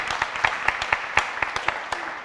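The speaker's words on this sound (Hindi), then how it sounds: "ताली नहीं बजाओ" Audience members clap at a religious discourse, about a dozen separate sharp claps spread irregularly and sparsely across the moment, fairly close.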